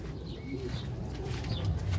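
Pigeons coo in their loft, low soft murmuring calls over a steady background hum, with faint chirps from other birds in the aviary.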